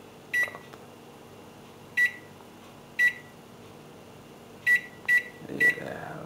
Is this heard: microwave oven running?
yes